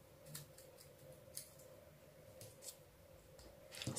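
A knife slices a boudin sausage lengthwise for a Christmas wreath appetizer, giving faint, close, soft clicks and scrapes over a quiet background hum.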